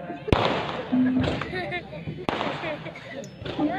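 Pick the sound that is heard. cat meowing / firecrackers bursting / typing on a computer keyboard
firecrackers bursting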